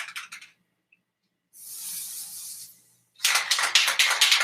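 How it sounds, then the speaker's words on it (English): Black spray paint hisses from an aerosol can onto a handmade wand handle in close, loud bursts: a short burst, a steady two-second spray, then a longer sputtering spray after a pause, with no talking. "take our black spray paint for the handle"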